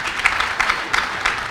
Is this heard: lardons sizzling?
no